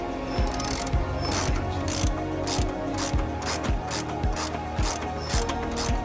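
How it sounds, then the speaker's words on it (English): A ratchet on a socket clicks in steady, evenly spaced bursts while a nut is tightened against a spanner on a Toyota Hilux bracket during an air-bag suspension kit install, close and clear, with no talking. "we use a 19mm spanner at the back on the lilac nut, an 18mm socket on the front"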